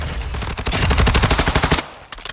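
An H&K MP7 submachine gun is hip-fired in Call of Duty Modern Warfare II: one rapid automatic burst of close, loud shots in tight rhythm for about a second, followed by a few trailing clicks.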